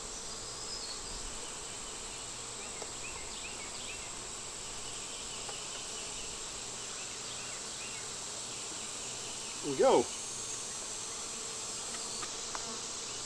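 Honey bees hum steadily at a hive entrance fitted with a beetle guard, a constant close buzz with one brief louder insect pass near the end and a short spoken remark.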